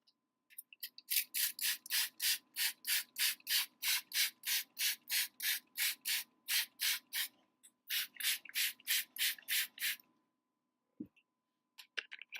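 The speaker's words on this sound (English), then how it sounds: "I'm going to spray this section with my aloe vera juice and water." Rapid pumps of a hand spray bottle misting aloe vera juice and water onto a section of thick curly natural hair, about two dozen close crisp bursts in a steady rhythm, a brief pause, then a few more sprays.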